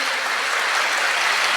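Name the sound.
applause from students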